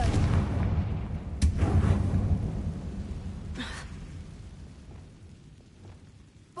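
Confringo fire spells burst in Hogwarts Legacy: heavy rumbling explosions with two sharper cracking blasts a couple of seconds apart over a low, rolling roar that fades gradually.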